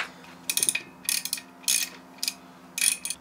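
A ratchet loosens the top bolts on the clutch pulley of an AC Nitro 200, heard as four quick bursts of rapid clicking separated by short pauses, close and clear with no talk.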